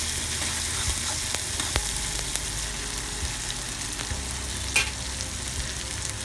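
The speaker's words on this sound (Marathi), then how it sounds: "लगेचच मिरची घालून घेऊया. हे दोन्ही एकत्र व्यवस्थित भाजून घेऊया." Green chillies roasting in a pan for shev upma, a loud continuous sizzle with scattered clicks and scrapes of stirring and one sharper knock, no talking.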